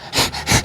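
A man imitates an aroused dog with rapid, breathy panting, two or three loud huffing bursts in quick succession at close range.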